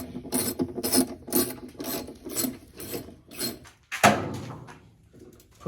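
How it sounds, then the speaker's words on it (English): Hand ratchet tightening an 11 mm screw on a washing machine hub: a run of rhythmic rasping clicks in short bursts, about seven strokes, close and fairly loud, followed by a louder clank and fading rattle. "Since I already put it in place, all I have to do is tighten it. It's an 11 millimeter."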